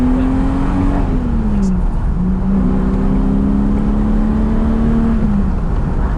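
A 1979 pre-HE Jaguar XJ-S engine with a 5-speed manual conversion hums close by, its pitch shifting as it accelerates and eases off, a steady throaty drone from start to finish.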